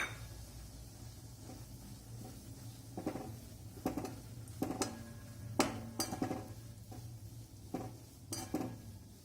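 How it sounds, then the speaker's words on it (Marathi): Grated coconut fried in a few spoonfuls of oil in a kadhai for bhadang chivda, heard as quiet clinks and scrapes of stirring against the pan over a low steady hum, with no voices. "आता सर्वात प्रथम कढाईमध्ये 3 ते 4 चमचे तेल घेऊन त्यात खोबऱ्याचा किस खरपूस तळून घ्या."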